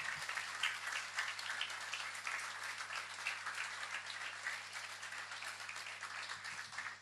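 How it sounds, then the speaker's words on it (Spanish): A church congregation claps together at a worship service, steady dense applause holding for several seconds at moderate distance, with no speech over it. "Dele las palmas al Señor."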